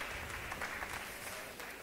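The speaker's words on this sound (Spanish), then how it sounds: "¡Un aplauso!" Audience applause at a Spanish-language talk on cognitive accessibility, a brief dense burst of many hands clapping, fairly faint and steady throughout.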